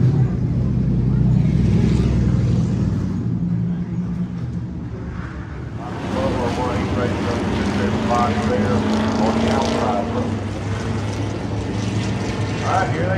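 Race cars roar toward the viewer at Lake View Motor Speedway during the Rock-N-Roll Rumble, a loud, continuous engine drone that swells as the pack draws nearer.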